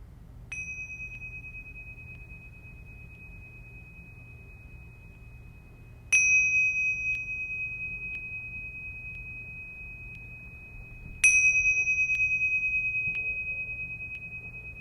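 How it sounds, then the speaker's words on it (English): Meditation bells struck three times at even intervals, each a clear, bright ping that rings out and decays slowly over a quiet, hushed background. "I'm going to ring the bells 3 times to welcome us into this exercise."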